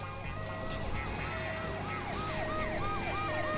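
An ambulance siren in the Driver 2 video game wails in a repeating rising-and-falling pattern over a constant engine and traffic drone, moderately loud and continuous throughout.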